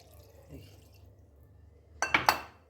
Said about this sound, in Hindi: उसी कटोरी से एक कटोरी पानी दे देना